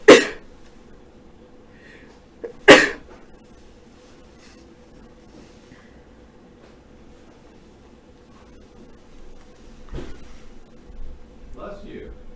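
A person sneezing sharply, with two loud bursts close together near the start and fainter rustles and breaths after, in a quiet room.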